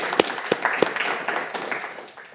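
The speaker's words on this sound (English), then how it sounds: "let's give a round of applause for Dr. Bouchon." An audience at a tobacco control lecture applauds, opening with a few loud, distinct claps before a fuller spatter of clapping that tapers off.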